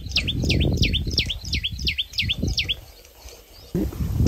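A small bird chirps nearby in a quick, regular series of sharp repeated calls for nearly three seconds, set against low rumbling outdoor background noise on a farm during unseasonal rains.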